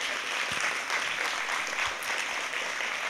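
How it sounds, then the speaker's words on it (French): Audience applause at a short-film evening screening and competition, a steady dense clapping from a crowd heard alone and filling the whole stretch without voices. "Merci pour Sonia, donc, qui peut-être entendra vos applaudissements depuis le Burkina Faso"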